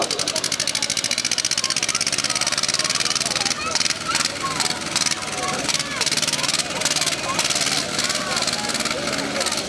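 A tractor engine idles and revs at the start of a muddy tractor race, a steady mid-pitched rumble with rhythmic chugging, while people talk and a crowd is audible over it.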